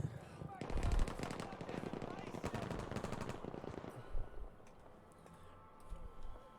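A Type 100 submachine gun fires in a rapid, sustained automatic burst during a competitive online shooter match, loud and close, then trails into scattered distant shots under a commentator talking.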